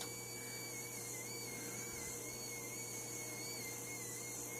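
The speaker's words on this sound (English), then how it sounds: "motor 4 turned motor 4, and it is rotating in towards the nose" A single quadcopter motor spins steadily on the bench, producing a thin, constant whine with faint wavering tones, quiet and unbroken throughout.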